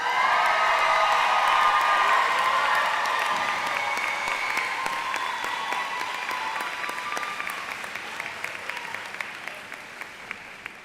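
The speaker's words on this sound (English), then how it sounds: "the class of 2026, let's clap them out" A graduation audience applauds the class in loud, sustained clapping with a few whoops, gradually thinning into scattered claps toward the end.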